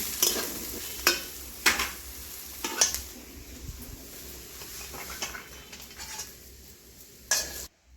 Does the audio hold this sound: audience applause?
no